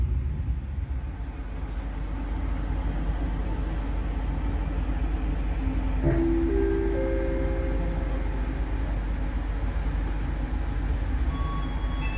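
The KA Majapahit economy passenger train runs on rails from Kediri to Jakarta with a steady loud rumble heard from inside the carriage, and brief squealing tones from the wheels appear midway.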